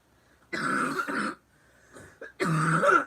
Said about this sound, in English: I was holding that cough back for like 45 minutes.